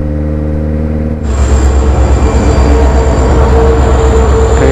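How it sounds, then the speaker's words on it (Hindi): A train rolls past at a level crossing on a road trip by Kawasaki Z900 motorcycle from Hyderabad to Goa, a loud steady rumble of wagons and rail noise starting abruptly and filling the scene, with a faint high whine above, no talk. "ट्रेन का वेट कर रहे हैं हम लोग,"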